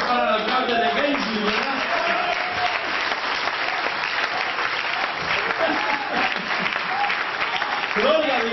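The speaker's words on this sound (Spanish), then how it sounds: "Qué aplauso más raquítico para el alcalde de Benji" A church congregation applauds the mayor in a sustained, dense round of clapping that fills the room for several seconds, with a voice talking over it at the start and near the end.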